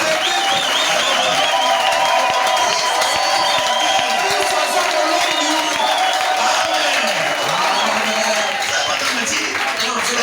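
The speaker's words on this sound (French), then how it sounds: "Acclamons d'abord le vainqueur" A Pentecostal church congregation cheers and acclaims, a sustained, loud crowd roar with whoops and scattered clapping, and a voice rising over it throughout.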